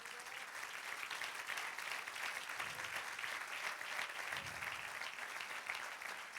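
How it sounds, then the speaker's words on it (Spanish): A church congregation applauds steadily and fairly loudly throughout, a dense continuous wash of clapping with no voices standing out. "Dale otro aplauso al Señor."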